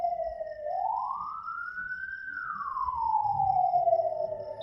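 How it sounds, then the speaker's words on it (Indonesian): An ambulance siren wails slowly from a nearby main road, a single long rising and falling tone, fairly faint against quiet surroundings with no other noise. "ada suara ambulan tuh."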